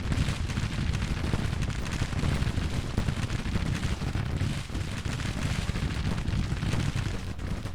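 Civil War infantry musket volleys and cannon in Grand Tactician: The Civil War, a dense, continuous rumble of distant gunfire and booms, steady and unbroken, with no voices.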